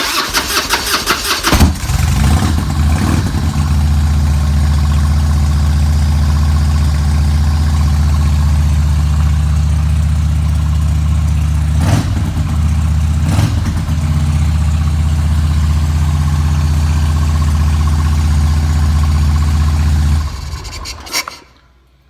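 Up close, a 2000 Harley-Davidson Twin Cam motorcycle engine with a Marelli carburetor cranks briefly and then fires up. It settles into a loud, steady, rumbling idle that holds for about twenty seconds before cutting off.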